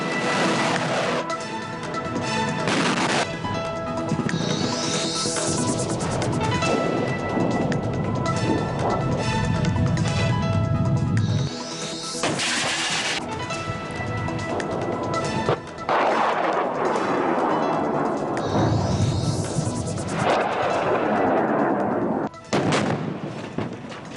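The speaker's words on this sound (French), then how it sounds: "le général de corps d'armée a supervisé l'exécution d'un exercice démonstratif avec munitions réelles" Live-ammunition military demonstration exercise in Algeria, with repeated heavy gunfire and artillery blasts booming loudly and continuously, overlapping bursts and echoing crashes throughout.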